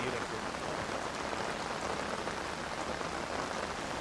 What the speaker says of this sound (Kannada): ಮಂಗಳೂರು ಜಿಲ್ಲೆಯಲ್ಲಿ ಮತ್ತೆ ದಕ್ಷಿಣ ಕನ್ನಡ ಜಿಲ್ಲೆಯಲ್ಲಿ ಮತ್ತೆ ಮಳೆ ಹೆಚ್ಚಾಗಿ ಬರ್ತಾ ಇದೆ.